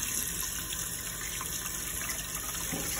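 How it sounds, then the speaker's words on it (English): Cold water runs steadily from a tap into a sink, a constant close hiss and gush of flow lasting the whole stretch with no voices over it. "Slowly putting the cold water on."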